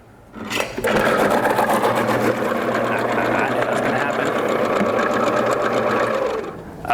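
A Robot Coupe vegetable prep machine dices tomatoes with a steady, loud motor whir and rapid rhythmic chopping, starting abruptly after a quiet moment and running continuously for several seconds before easing off.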